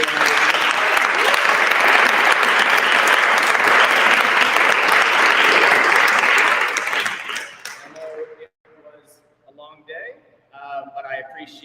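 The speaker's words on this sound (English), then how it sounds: "if I can ask you to just give one final round of applause to everyone" Sustained, loud applause from an audience at a World Parliament event in New York City, steady dense clapping for about seven seconds, then fading out as a speaker begins talking.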